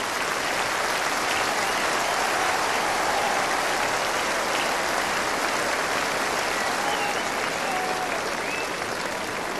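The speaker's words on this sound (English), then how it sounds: "Give him an enormous applause" A large audience at an open-air orchestra concert in Maastricht applauds a soloist, a dense, loud, unbroken wash of clapping that holds steady throughout.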